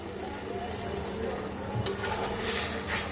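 A fish curry with spice paste simmers and sizzles softly in a pan, a low, steady bubbling hiss with light stirring noises that grows a little louder toward the end.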